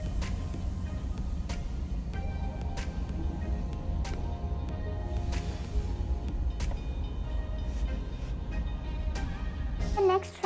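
A train rolls past with a steady low rumble and regular clacks of wheels over rail joints, continuing for the whole stretch.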